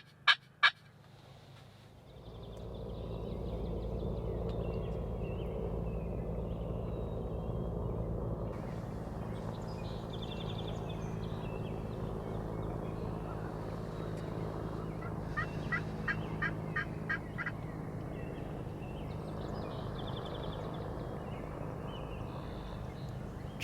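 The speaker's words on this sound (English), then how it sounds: "Generally, a yelp from a hen is telling the tom that she is on her way to him." A wild turkey tom gobbles in the distance, its throaty rattling calls repeated several times over steady outdoor background noise, with a few short hen yelps mixed in and no one talking.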